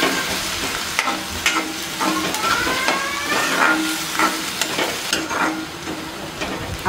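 Onions frying with a spoonful of salt in a pan for Mumbai street-style pav bhaji, a steady close sizzle broken by repeated scraping stirs of a spoon against the pan.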